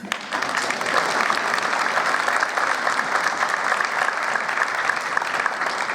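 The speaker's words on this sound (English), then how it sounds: "How about a round of applause for the parents?" An audience at a marching band's indoor concert applauds the parents, a steady, dense and fairly loud wash of clapping that holds unbroken throughout.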